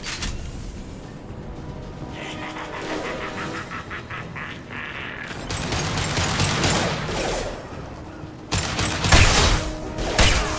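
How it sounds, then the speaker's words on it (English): Rapid bursts of sci-fi gunfire from an impact shot in the Mass Effect 2 game, crackling volleys building to heavier, louder blasts toward the end against a combat background. "Firing an impact shot"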